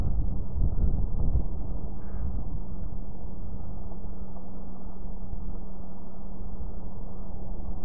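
Outdoor wind by Lake Huron at dusk buffets the microphone in a steady low roar, with a faint constant hum running underneath throughout and no talking.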